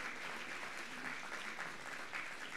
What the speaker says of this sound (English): if I can have a round of applause for the parents